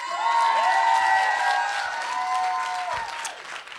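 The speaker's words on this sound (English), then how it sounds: "Can we just give this man here another round of applause?" Applause from guests at a wedding reception, a steady loud wash of clapping with some cheering and voices mixed in, sustained for several seconds before easing slightly at the end.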